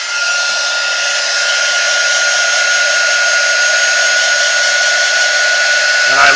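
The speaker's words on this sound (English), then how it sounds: "And now we can use our heat tool." A heat tool blows hot air for embossing on heat-resistant vellum. It makes a loud, steady, close whooshing hiss with an even high whine that runs unbroken throughout, then clicks off at the very end.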